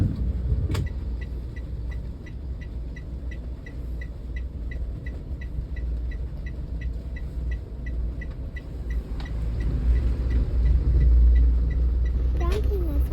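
Road traffic rumble heard from inside a vehicle, a continuous low engine and tyre drone with faint ticking, growing slightly louder near the end, while people chat now and then.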